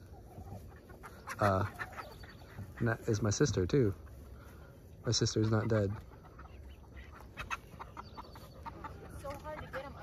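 Farm chickens clucking and squawking in bursts while a dog chases them, with voices talking throughout and the birds loudest in a few agitated calls.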